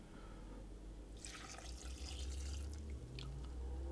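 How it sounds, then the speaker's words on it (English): Port wine poured over dried fruit in a saucepan for Christmas cake cupcakes: a faint, trickling, splashy pour with drips, set against steady background hiss. "and I'm going to pour over that"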